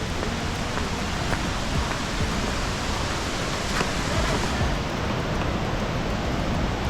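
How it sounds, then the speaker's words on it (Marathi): A flowing stream near Dhootpapeshwar Temple in Rajapur rushes continuously and loudly, a dense, steady wash of water noise filling the whole stretch. "आणि आवाज खूप येतो आहे त्या पाण्याचा आवाज आहे"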